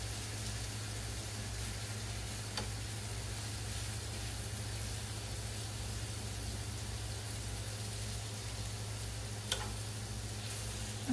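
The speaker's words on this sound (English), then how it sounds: "I want a little bacon grease in there so I can saute." Bacon grease sizzling in a skillet, a steady, even hiss of frying that continues throughout at moderate volume over a low constant hum, with a couple of faint clicks.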